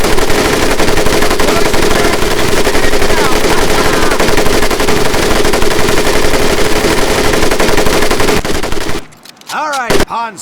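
A belt-fed M1919A4 .30 caliber machine gun fires in a World War II Pacific combat game, loud, continuous sustained bursts for about nine seconds, then cutting off abruptly to near silence with a few faint sounds at the end.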